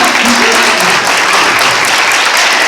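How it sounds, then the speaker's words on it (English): A crowd at a school autism awareness event claps steadily and loudly for teachers throughout, dense applause with no pauses. "Let's give them a round of applause"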